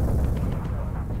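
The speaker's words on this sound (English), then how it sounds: "we're going to fly right through these explosions." Dense, rumbling explosions and flak bursts fill a World War II bomber flight in the Bomber Crew video game, a continuous loud low boom with no clear breaks and no talk.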